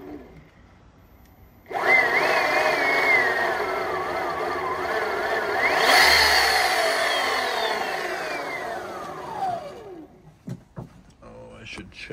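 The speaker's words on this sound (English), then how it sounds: "There's the motor. Spinning in the right direction." A 15 kW mid-drive e-bike motor spins up with a rising electric whine and shifting tonal sweeps, loud and close for several seconds, then winds down and fades, leaving a few faint clicks.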